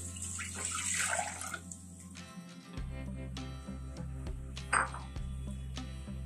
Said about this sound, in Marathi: त्याच्यात मी हे पाणी घालते 1 वाटी.